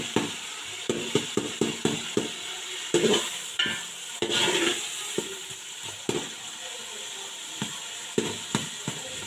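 Tomatoes are stirred and mashed into a paste in a pan for chicken yakhni pulao, producing a string of close, sharp scraping and clacking strokes over a soft sizzle.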